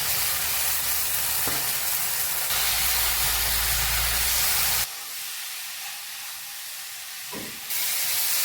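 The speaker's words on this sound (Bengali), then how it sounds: "এবারে আমি আলুগুলো দিয়ে দেবো।" Potatoes hit hot oil and spice masala in a pan for an egg and potato curry, sizzling loudly with steady frying hiss. The hiss briefly drops, then surges again, and no one speaks.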